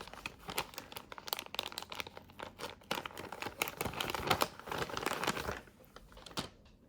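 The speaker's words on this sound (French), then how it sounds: "c'est l'heure d'ouvrir une nouvelle case du petit calendrier" Crinkling plastic and paper packaging as a small door of a Halloween advent calendar is opened, a steady run of close, dense rustles and crackles that fade out near the end.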